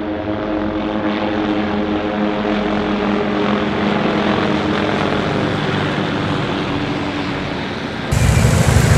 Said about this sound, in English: you'll probably get a better view for the kids to see the helicopters come by